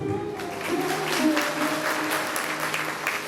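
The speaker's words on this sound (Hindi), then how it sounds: "ताली बहुत कंजूसी से बजा रहे हैं आप लोग" Audience clapping at a Shrimad Bhagwat Katha religious gathering, a steady mass of applause with tonal music or a sustained voice running underneath throughout.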